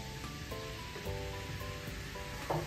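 Grated carrot going into warm ghee in a pan makes a soft, even sizzle with a couple of faint utensil taps, steady and close for a few seconds.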